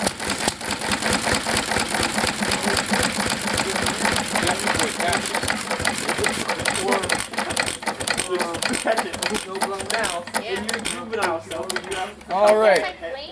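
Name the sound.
McCormick Deering M tractor engine being shut down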